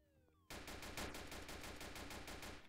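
Gunfire in the video game Notruf Hamburg starts suddenly after a short quiet moment. A loud, rapid burst of evenly spaced automatic shots keeps going to the end.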